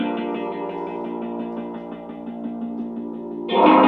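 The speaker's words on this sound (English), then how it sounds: "So here goes the additional piano layer here with movement." A piano layer in a hip-hop beat, processed through the Movement effect plugin, rings as sustained chords with a rhythmic, modulated shimmer, then swells into a louder, denser burst near the end.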